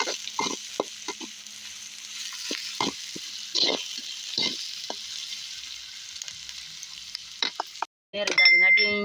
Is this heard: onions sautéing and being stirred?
yes